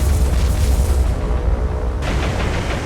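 Rocket strikes explode on a destroyer in the naval war game War on the Sea, heard as loud, dense low booming rumble with rolling blasts and a fresh burst of noise near the end.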